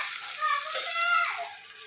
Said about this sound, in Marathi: असं बघा मस्त कांदा तळायला ठेवला आहे